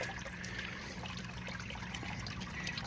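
Water trickles steadily from an adjustable irrigation outlet, its flow set with pliers, giving a continuous close wash of liquid sound with no pauses.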